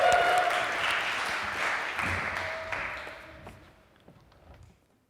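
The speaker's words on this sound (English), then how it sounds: "could we just have a big round of applause for him" A conference audience claps in a dense wash of applause that gradually thins and fades away to silence.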